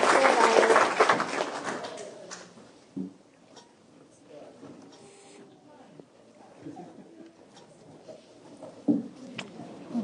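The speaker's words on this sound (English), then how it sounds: "Round of applause for Violet." Applause from a crowd at a Veterans Day event at city hall fades out over the first couple of seconds, followed by quieter room noise with scattered voices and a few knocks.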